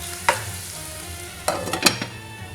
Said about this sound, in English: we're just going to prepare these while that's sizzling away